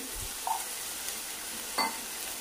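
Urad dal dropped into hot oil for tempering while cooking methi bhaji gives a faint, steady sizzle with a couple of small crackling pops, heard alone at low level.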